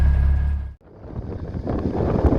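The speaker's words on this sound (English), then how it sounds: "Oh, it's very windy, but this is Marsden Moor." Heavy wind buffets the microphone in a loud low roar, dropping out briefly before gusting back strongly on open moorland at Marsden Moor.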